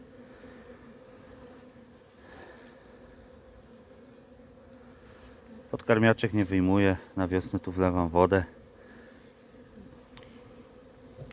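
Honeybees from a strong colony filling one and a half hive boxes hum steadily around the hive entrance, a low continuous drone under a few seconds of someone speaking Polish midway.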